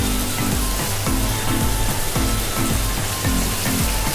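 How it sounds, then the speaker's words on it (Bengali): Large eggplant pieces dropped into sizzling masala in a pan, a loud, dense, continuous frying hiss close by, with regular stirring strokes pulsing through it. "এখন দিয়ে দিচ্ছি বেগুন।"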